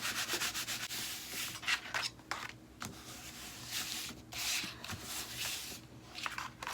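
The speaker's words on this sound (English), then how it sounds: "I'm going to go ahead and come in and wipe away any residue." A napkin rubs and wipes residue off a surface in repeated close, scratchy strokes, steady and fairly quiet with brief pauses between passes.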